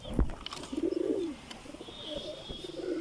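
A pet mushki pigeon coos in a few soft, low, rolling calls, fairly close, with faint chirps and light background noise between them.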